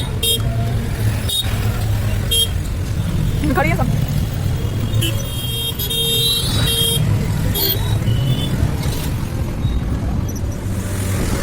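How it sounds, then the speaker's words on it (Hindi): Dense road traffic on the way into Mathura, with engines rumbling continuously and several car and vehicle horns honking in short bursts, near and far, under a voice talking. "ये देखो ट्रैफिक बहुत हो रहा है।"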